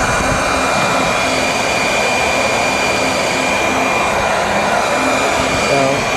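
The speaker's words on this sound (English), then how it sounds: "so now we're back to blow drying" A hair dryer blows steadily on pottery clay, giving a loud, constant whooshing whir that runs unbroken from start to finish with no talking.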